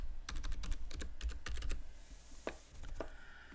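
Rapid keystrokes on a computer keyboard during password entry at a Linux Mint 21.2 login screen, a quick burst of close clicks followed by a few slower, separate taps.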